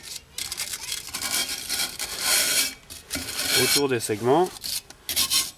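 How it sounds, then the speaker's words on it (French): A wire brush scrubs hard and continuously across a car's drum brake shoes, a dense raspy scraping in repeated strokes, close to the microphone, briefly under a voice. "on va prendre une brosse métallique comme ceci et on va venir brosser"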